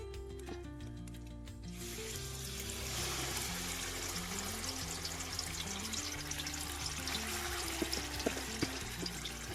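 Ghee pours and trickles steadily into a pan, a continuous wet splashing with faint clinks of utensils underneath, fairly close by.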